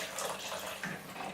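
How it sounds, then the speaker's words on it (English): Water pours steadily into a pan of meatball sauce with vegetables and mushrooms, a close, continuous splashing trickle with no talking. "So what I'm going to do is add some more water in it"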